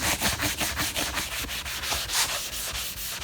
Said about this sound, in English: you really have to sand the crap out of this